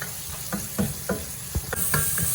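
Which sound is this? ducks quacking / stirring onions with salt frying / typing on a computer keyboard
stirring onions with salt frying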